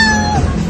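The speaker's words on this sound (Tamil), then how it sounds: "பாருங்க பூனை." A cat outdoors in Indonesia gives a single loud, close meow that stops abruptly, with no talking over it.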